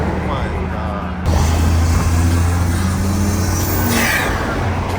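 A BMW G80 M3 engine with an upgraded intake revs hard and loud up close, a deep steady roar with a throaty intake growl that holds after a sudden jump in volume.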